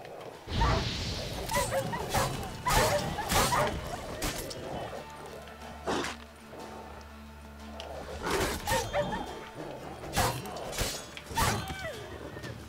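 Wild dogs barking in The Witcher 3 on a misty night, several sharp barks and yips repeating in bursts at moderate distance, with a low ambient game drone underneath.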